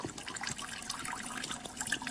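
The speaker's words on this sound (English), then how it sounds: "I can make you listen by having my microphone near the water, and you can hear this water running." Water runs and trickles steadily through a Kelvin water-drop battery, a continuous close splashing rush at moderate loudness with no voices.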